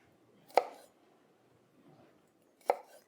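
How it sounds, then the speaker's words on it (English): Two separate knife chops on a board while cutting garlic cloves, each a single crisp knock, close and clear, with near silence between them. "you're going to take some garlic cloves and you're going to cut them"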